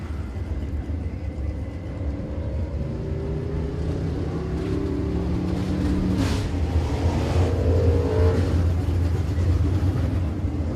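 Late model race cars rolling onto the dirt oval at Sabine Speedway on a race night, deep engine rumbles idling and revving in a loud continuous drone with a brief sharp rise near the middle.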